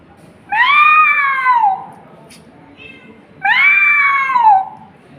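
A person imitates a cat, giving two drawn-out meows with a short pause between them, close and clear.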